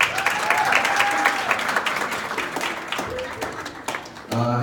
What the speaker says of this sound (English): give a round of applause for Mr. Nichols